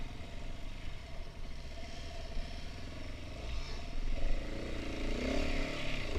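Off-road motorcycles on a muddy trail ride, including a Yamaha WR and a big KTM, their engines droning steadily at moderate distance and swelling louder toward the end.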